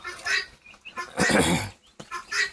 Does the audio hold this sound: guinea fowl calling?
yes